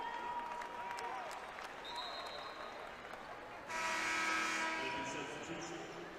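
Basketball arena crowd at a girls' state final applauding as an injured freshman player is helped off the floor, a broad wash of clapping swelling midway and sustained, with background crowd murmur beneath.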